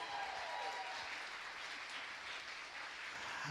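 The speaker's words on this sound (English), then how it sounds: "Give them a round of applause." Applause for a house band at a local live music finals show, a distant, soft wash of clapping that stays steady and muffled for a few seconds.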